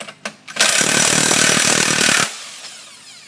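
A 22mm socket on an impact wrench loosens a bolt on a Viking sheave, one loud continuous hammering burst of about two seconds, close up, with a few brief clanks just before it.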